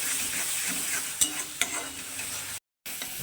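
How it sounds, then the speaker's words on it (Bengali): Spices such as turmeric and cumin stir-fried in hot oil in a pan, a steady close sizzle with a couple of sharp scraping knocks from the stirring utensil. "এখন আমি মশলাগুলো খুব সুন্দর করে কষিয়ে নেবো"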